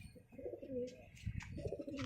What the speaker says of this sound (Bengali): এই যে মাদা পায়রাটা শখ করুন।